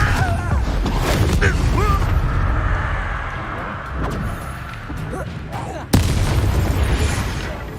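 A Confringo fire spell explodes in the Hogwarts Legacy video game, bursting amid ongoing combat noise with a sharp blast near the end, while game voices speak over the rumbling action.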